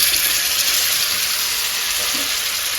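Mackerel (bangude) frying in hot oil on a tawa, a loud, steady, close sizzle with constant crackling hiss and no talk.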